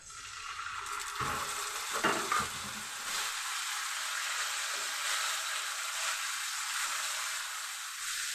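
Garlic paste and radhuni spice paste hit hot oil in a pan with a loud, steady sizzle, a few stirring scrapes early on, then continuous frying hiss with no talking.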